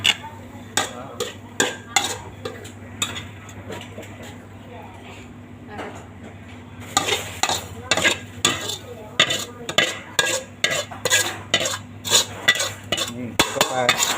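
Metal utensil scraping and clinking against a wok in quick repeated strokes while stir-frying bamboo shoots, sparse at first then busier, with people talking throughout.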